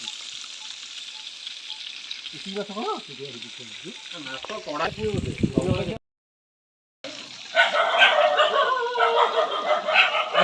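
A dog barks several times in a short burst, heard over a steady frying hiss in a kitchen where fish is being cooked, with people talking nearby.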